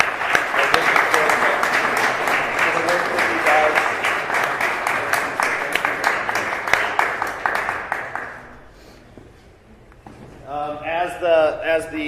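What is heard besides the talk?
audience applause at a book launch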